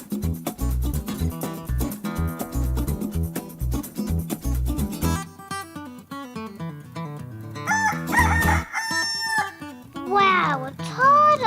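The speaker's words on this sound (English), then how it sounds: "It's a rooster." A rooster crows at a farm, its calls coming in the later part over loud background music with a heavy beat.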